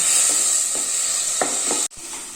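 Tomatoes sautéed in a pan for lemon-ginger rasam give a loud, constant close hiss and sizzle with a few soft stirring scrapes, briefly cut off near the end, with no talk.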